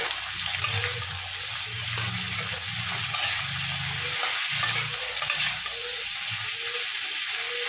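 Pointed gourd and potatoes frying in a pan, stirred with steady close scraping over a continuous loud sizzle, with no voices.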